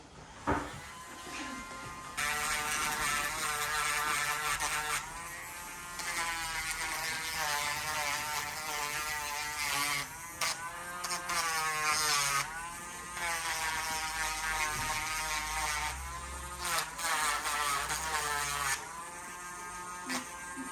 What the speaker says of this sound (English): Then we take a Dremel.